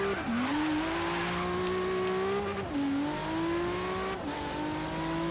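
A Honda NSX with all-wheel drive in Forza Horizon 3 drives with a loud, steady engine drone that rises through the gears, dropping in pitch at two shifts, with faint tire noise and no talk.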